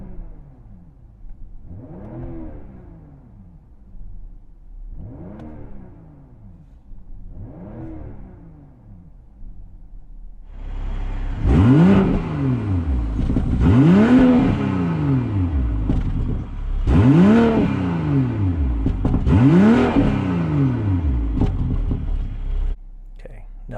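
A 2023 BMW M340i LCI in Sport Plus mode with iconic sounds off, revving its exhaust in a series of repeated blips: three softer rises first, then four louder, fuller revs with a brief settle between each.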